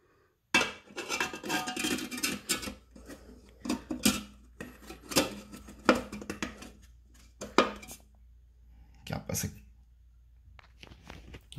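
A metal rust piece set into a glass container, giving short clinks and knocks against the glass, a cluster of close, sharp impacts spread over several seconds with quiet gaps between them.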